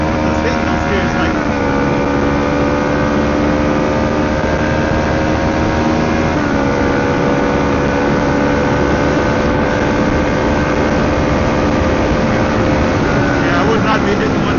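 A Kawasaki Ninja 650 motorcycle engine runs loud and steady on a test ride, climbing and dropping in pitch as it shifts through gears, with heavy wind rush throughout.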